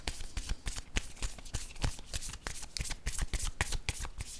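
A deck of cards is shuffled quickly for a card reading, making a steady run of soft, papery riffles and flicks at close range for several seconds.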